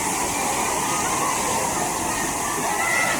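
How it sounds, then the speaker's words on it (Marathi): A steady, full roar of rushing water from Savdav waterfall in Kankavli, Konkan, close by, constant and unbroken throughout. "धबधबा कसा वाहतो त्याचा आनंद घेऊ शकतो"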